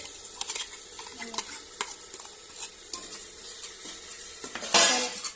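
A spoon stirs green paste into soaked rajma in a metal pot, scraping and clinking against the sides in irregular strokes with a faint sizzle underneath, ending in a louder scrape.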